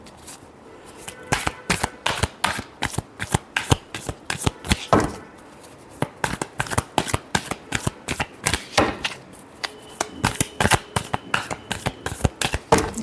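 Tarot cards are shuffled by hand in rapid, repeated riffling bursts, each a crisp papery flutter, close and clear with brief pauses between rounds.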